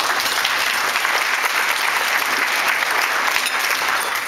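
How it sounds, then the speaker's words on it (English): A conference audience at an asset management and economic update event claps loudly and steadily for several seconds, a dense, even wash of applause. "let's just give a hand clap to you guys"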